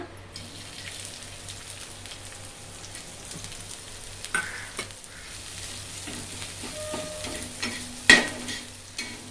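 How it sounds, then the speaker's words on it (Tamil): Onion, green chili and drumstick leaves sautéing in a pan, with a steady low sizzle, soft stirring scrapes and a sharp clink of the spatula near the end, no talking. "நம்ம முட்டை எப்படி போடுவோமோ அதே தான் கீரையே கொஞ்சம் வதக்கிடுங்க"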